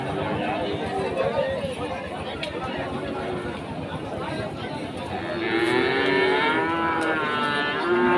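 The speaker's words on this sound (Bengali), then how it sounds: "কত সুন্দর সুন্দর গরু উঠছে" Cattle moo repeatedly at a busy bull market in Chandipur, Rajshahi, with long drawn-out bellows rising over constant crowd chatter and talking, growing louder and closer toward the end.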